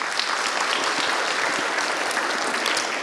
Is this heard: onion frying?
no